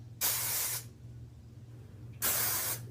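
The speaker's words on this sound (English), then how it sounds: "and spray the braid as well." Two short bursts of hairspray hiss close by onto a braid, each lasting over half a second, separated by a quiet pause with a low hum beneath.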